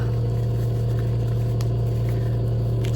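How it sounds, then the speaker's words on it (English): An air purifier runs nonstop in a house, giving a steady low hum with a strong constant tone and a faint broadband whoosh, with no voices over it. "So we've invested in a air purifier for the house."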